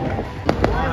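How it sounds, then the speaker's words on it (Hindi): Fireworks and firecrackers bursting on Janmashtami night in Jammu: two sharp bangs in quick succession over a dense, noisy outdoor background. "भाई देखो कितने बम फट रहे हैं"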